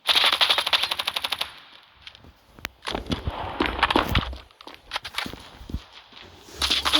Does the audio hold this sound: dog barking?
no